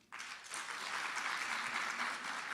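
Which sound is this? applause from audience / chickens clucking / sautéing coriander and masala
applause from audience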